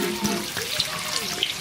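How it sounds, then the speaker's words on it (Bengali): Mustard oil is poured into a hot cooking pot set up for a mutton curry, a brief, close, steady liquid pour with a faint splashy sizzle. "ঢেলে দেবো সর্ষের তেল।"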